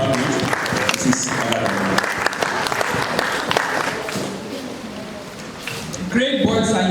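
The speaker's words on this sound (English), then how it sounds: "Please let's clap together for the head of our planning, research and extension department" An audience of school pupils and guests at a school visitation in Abuja claps steadily in a dense, sustained burst of applause, with voices and cheering mixed in, tapering off toward the end before a voice begins speaking.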